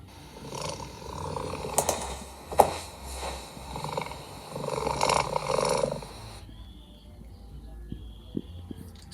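A cat purrs in an AI-generated video, a low rumbling purr with soft scattered clicks and taps, fairly quiet and close, fading to near silence toward the end.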